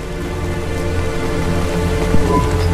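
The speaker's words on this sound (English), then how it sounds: "Don't let all the rain get you down." Steady rain pours in the Cloudpunk video game city, a dense continuous hiss with low rumbling underneath, loud and constant throughout with no talk.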